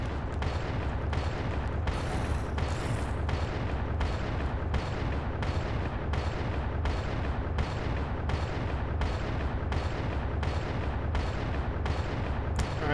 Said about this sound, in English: Wish I could throw a grenade a little bit further.